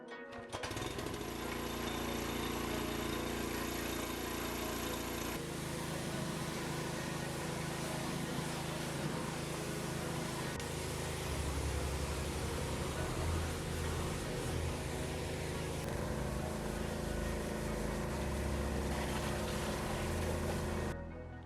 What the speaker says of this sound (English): I'm going to start with giving it a good rinse with the power washer.